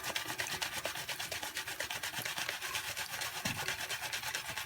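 A shaving brush works lather up on a face, giving a steady, rapid scrubbing and rubbing texture that continues evenly throughout at close range, with no talking.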